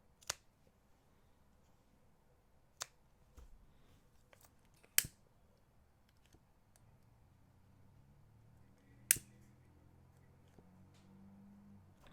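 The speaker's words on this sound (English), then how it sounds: "now I can snip this off" Scissors snip macrame bracelet cord in a few sharp, isolated clicks spread over a quiet background, with no one talking.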